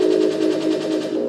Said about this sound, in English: Max's machine gun sounds more like some sort of alien phase weapon